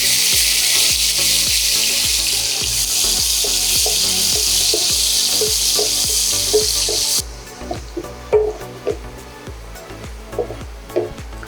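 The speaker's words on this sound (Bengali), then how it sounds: "এই তেলের মধ্যেই আমি একটুখানি পেঁয়াজকে ব্রাউন করে হালকা ভেজে নেব" Onions fry to brown in the oil left from frying fish for a Bengali doi katla. A loud, steady sizzle runs for about seven seconds, then gives way to quieter, sharp clatters and scrapes of stirring.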